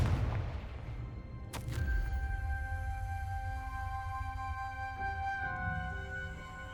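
Confringo fire spell cast in Hogwarts Legacy: a single sharp blast bursts out early, then leaves a ringing, shimmering magical tone that lingers over a low rumbling game background.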